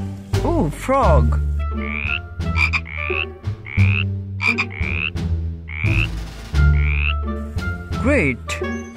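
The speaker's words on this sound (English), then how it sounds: "Oh, frog!" Frog croaking loudly and close, repeated deep rhythmic croaks with chirpy rising calls between them.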